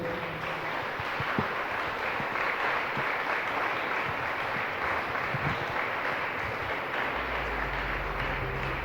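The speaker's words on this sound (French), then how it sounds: "Saluez-les pour leur contribution à ce débat par des acclamations" A crowd applauds and cheers for the panelists of a debate on early pregnancy and motherhood, a steady wash of clapping that runs loud and unbroken from start to finish.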